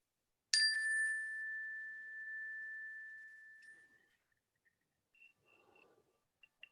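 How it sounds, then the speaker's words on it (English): Mindfulness bell struck once, a clear bright ding that rings out and slowly fades over several seconds, followed by faint small sounds in the quiet. "I'm going to ring the bell again to transition us back"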